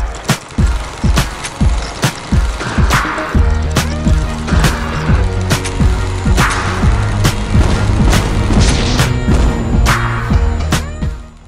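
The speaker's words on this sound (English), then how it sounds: "just launch these grenades into the battlefield and just blow the aliens to smithereens" Grenade explosions boom again and again through a Commando Jack alien-invasion battle, a dense run of loud, thudding blasts and sharp cracks layered over continuous game noise and music.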